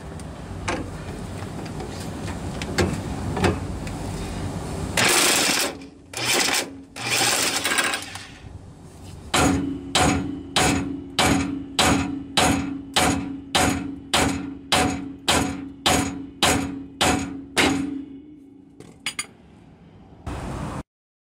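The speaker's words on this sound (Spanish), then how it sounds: "Voy a usar mi llave de impacto para quitar esta tuerca porque está bastante" An impact wrench removing a tight tie rod nut on a 1997–2004 Ford F-150. Early clattering gives way to a loud, regular series of about fifteen hammering bursts, close up, then a final short burst.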